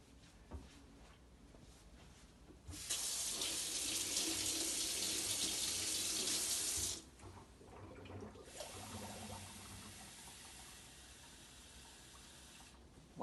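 Tap water runs hard into a container while pancake batter is being measured out, a loud steady gush lasting about four seconds, then dropping to a softer trickle and fading into quiet kitchen room sound.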